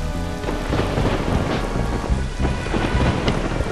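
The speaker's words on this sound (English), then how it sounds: "they brought back the lightning" Video game lightning storm in Glover, with heavy rolling thunder and dense rain noise filling the scene loudly and continuously, with no talk.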